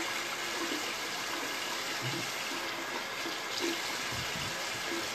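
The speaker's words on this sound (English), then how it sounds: "So I'm gonna go ahead and start running the water." Water runs steadily from a sink tap in a bathroom, a continuous hissing, splashing flow heard close up and alone, with no talking.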